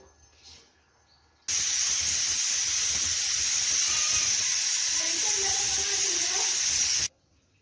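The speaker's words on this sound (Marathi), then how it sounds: "कुकरच्या एक चार शिट्ट्या काढून घेऊया झाकण लावून" A loud, steady hiss of steam rushes out for several seconds, then cuts off abruptly, like a pressure cooker venting.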